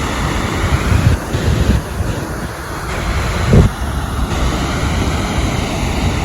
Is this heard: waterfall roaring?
yes